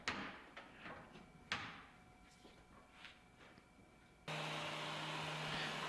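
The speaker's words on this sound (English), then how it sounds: "Get these doors put on." Doors being fitted onto a finished display cabinet: a few sharp knocks and wooden clunks with a softer rattle between them, then a steady loud mechanical hum that takes over for the last stretch.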